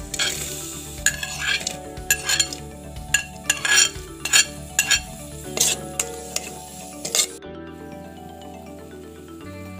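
A spatula stirs and scrapes onions in a hot pan for a Kerala chicken pathal dish, with garlic, ginger and green chillies nearby. Rhythmic metallic clatter and scraping sit over a low sizzle, then the stirring stops and a quieter hum remains.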